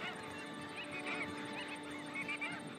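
A flock of about forty wild birds on a New Zealand coast, heading off on migration to China, gives a steady chorus of honking calls that overlap and carry on without a break.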